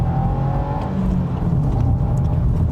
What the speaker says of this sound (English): I wanted Subaru to give us more induction noise, more exhaust noise.